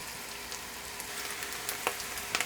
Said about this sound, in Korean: 팬이 달궈졌으면 센 불에서 햄을 구워주세요